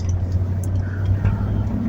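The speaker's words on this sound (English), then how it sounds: "I'm driving to work right now" A car driving along the road on the way to work, heard from inside as a steady low engine and road rumble, close and continuous for the whole stretch.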